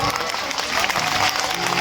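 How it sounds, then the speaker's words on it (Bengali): Kirtan audience clapping along at a devotional singing gathering, a dense, irregular crowd of hand claps filling the whole stretch with voices mixed in underneath. "এইবার করতালি লাগাও, করতালি দাও"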